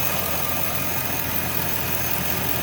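A Chevy/GMC truck engine idles steadily with a rattly, rumbling tone right after a belt tensioner replacement, heard close up as a continuous mid-pitched drone with no talking.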